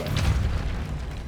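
Depulso spell cast in Hogwarts Legacy, a single deep muffled boom with a low rumbling burst that fades over about a second.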